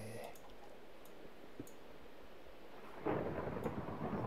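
A thunderstorm in Minecraft opens with scattered ticks and clicks over a low rumble, then a thunder roll swells about three seconds in and carries on loud and sustained to the end.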